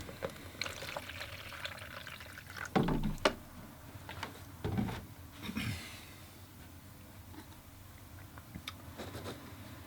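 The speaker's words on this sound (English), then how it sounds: "I'm going to pour some water here." Fresh water is poured into a container beside a watercolor painting setup, soft splashing and trickling that come in a few separate gushes with light knocks and handling noises between them, quiet and without speech.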